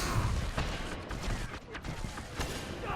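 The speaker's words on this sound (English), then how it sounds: "There was what, 4 shots there?" Hand cannon fire in the video game Destiny comes as a quick burst of several sharp gunshots close together, mixed with dense game action noise and creaks.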